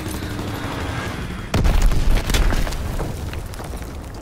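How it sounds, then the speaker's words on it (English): Bomb blast in a multiplayer war video game, a loud broadband boom hitting about a third of the way in and rumbling on with crackling debris over steady battle noise. "Enemy bomb incoming!"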